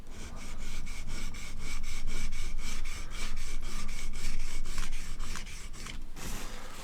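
A Helle Nord knife is sharpened freehand on a whetstone with steady, rhythmic rasping strokes, close and continuous, with a brief scrape near the end.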